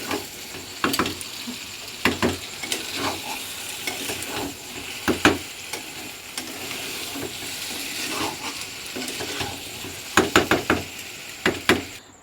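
Soya chunk and egg curry being stir-fried in a pan, a steady sizzle broken by repeated sharp knocks of the spatula against the pan at irregular intervals, close up with no talking.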